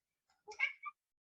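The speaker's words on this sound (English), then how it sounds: "you may have heard my cat." A single short indoor cat meow, clear and close, rising and falling over about half a second against otherwise silent surroundings.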